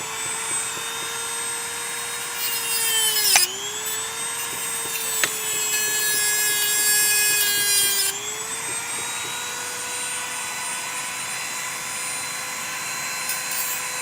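A Dremel rotary tool cuts old cable grown into an outdoor cactus with a loud, steady high whine, and its pitch dips briefly a couple of times under load.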